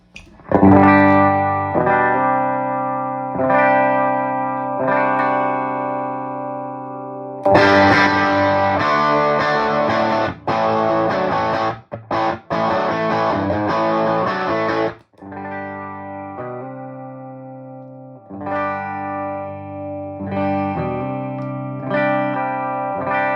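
Electric guitar plays loud chords through an amplifier, switching between a clean wavering tone and a harsher, saturated sound partway through.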